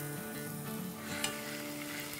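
A steady soft sizzle of ginger and garlic frying in a pan for baingan bharta, faint and continuous with light stirring sounds and a brief clink, no talking.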